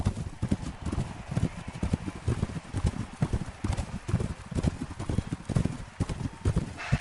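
Hooves of several running horses clip-clop in a fast, dense, continuous patter, loud and close throughout with no talking over them.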